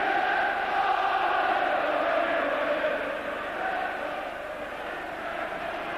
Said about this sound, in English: Crowd trying to lift Liverpool again.